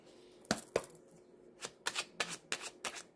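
Oracle cards are shuffled and drawn by hand, giving a close, quiet series of crisp riffling flutters and soft snaps in quick, uneven bursts.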